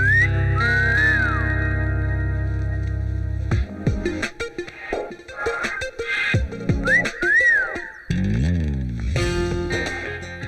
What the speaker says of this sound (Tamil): உதடால ஓ போட்டு அப்புறம் விசில் அடிக்கணும்